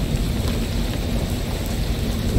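Heavy pelting rain with rumbling thunder in the video game Shadows Over Loathing, a loud, dense, continuous roar with no talk.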